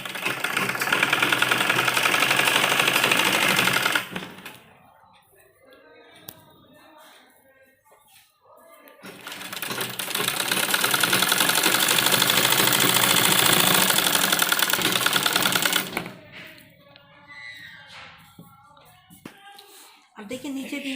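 Sewing machine stitching dupatta fabric while an old dupatta is turned into a suit, loud steady motor whirring in two long bursts with quieter pauses of handling between them.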